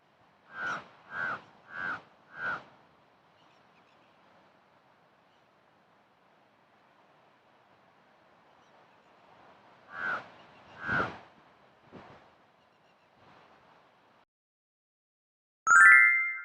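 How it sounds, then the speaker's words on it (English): A crow caws four times in a quick, evenly spaced series, then after a long quiet gap gives two more harsh caws and a fainter one. A short tonal sound cuts in at the very end. "Crow. Crow sound is caw."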